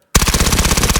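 A high fire rate gun in a video game fires one rapid, unbroken burst of closely spaced loud shots, starting abruptly after a brief silence.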